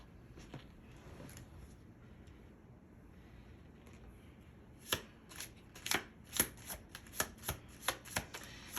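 Oracle cards shuffled close to the microphone, quiet rustling at first, then a run of sharp, evenly spaced riffling snaps as the deck is worked and cards are drawn.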